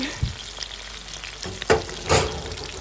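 Food fries in hot oil with a steady close sizzle, broken by a couple of short scraping bursts as it is stirred or lifted out.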